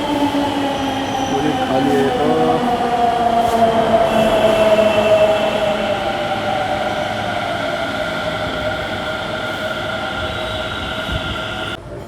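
A Delhi metro train pulls into a station platform on the Gurgaon line with a steady rolling rumble and thin, drawn-out wheel squeals that fade as it slows. A person briefly speaks over it.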